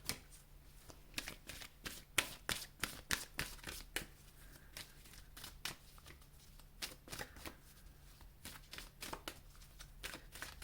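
A deck of moon oracle cards gets shuffled close up, a quiet run of quick papery riffles and taps in irregular bursts, alone with no talking.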